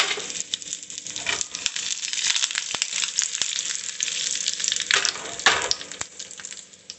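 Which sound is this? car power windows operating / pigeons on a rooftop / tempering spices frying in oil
tempering spices frying in oil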